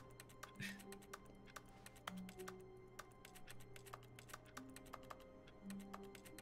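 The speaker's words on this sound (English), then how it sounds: "There's a phantom keyboard." Phantom keyboard typing from The Stanley Parable, with a steady patter of faint, quick key clicks continuing throughout.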